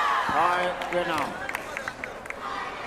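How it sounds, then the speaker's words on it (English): Vietnamese sepaktakraw players at the ISTAF Sepaktakraw World Cup shouting and cheering themselves on in a sports hall, loud rising voices at the start fading into scattered claps and thuds of play. "the only sound you can hear is of the Vietnam team cheering themselves on"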